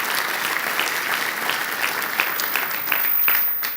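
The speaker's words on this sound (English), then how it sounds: "One more round of applause for them and all their excellent accomplishments." An audience applauds at the Colorado Sports Hall of Fame Athlete of the Year awards ceremony, with a dense, steady clapping that swells slightly near the end and sounds moderately close.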